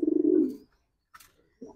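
Pigeons, including a pair of young slate-grey birds, coo in a loft; a loud, close rolling coo opens, followed by two short, softer call fragments after a pause.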